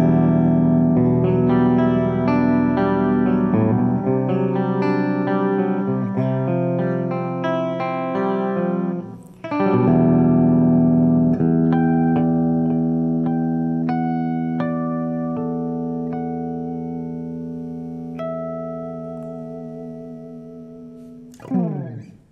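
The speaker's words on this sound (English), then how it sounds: "the bridge humbucker. Generally not the first choice for clean arpeggios" A Framus Wolf Hoffmann WH-1 electric guitar on its bridge humbucker plays clean, flowing arpeggios with a bright, slightly twangy tone, pausing briefly midway, then notes ring out and slowly decay.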